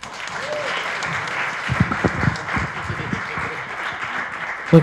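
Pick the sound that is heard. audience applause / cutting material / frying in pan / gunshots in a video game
audience applause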